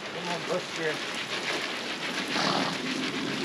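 Rain patters steadily on a surface at a horse farm, a dense hiss of drops with a voice murmuring faintly underneath at the start.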